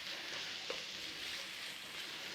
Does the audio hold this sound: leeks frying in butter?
yes